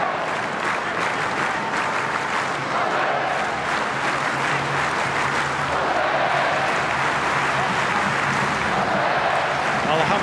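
A stadium crowd at an Asian Cup semi-final football match in Newcastle, Australia, applauds and rises to salute the home side, a dense continuous roar of clapping and cheering, with a commentator's voice faint beneath.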